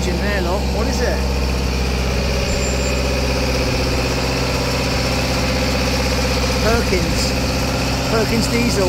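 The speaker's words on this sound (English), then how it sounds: "Diesel engine there, look, what is it?" A Perkins diesel engine runs steadily at a boatyard where boats are being lifted out, a continuous low idling rumble with people talking over it.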